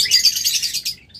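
Rainbow budgerigars, newly adult birds kept in pairs, chirp in a dense, continuous chatter of high, bright tweets. The sound is close and lively and runs the whole stretch, with no voices.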